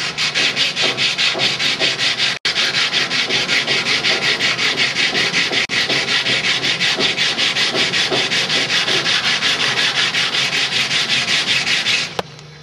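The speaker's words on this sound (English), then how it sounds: "on joints where there is no peel ply, you need to vigorously sand" Vigorous sanding of a fiberglass joint on the joggle of a boat hull during construction, a loud, close, steady rhythmic scrubbing repeated in quick strokes with two brief pauses before stopping abruptly.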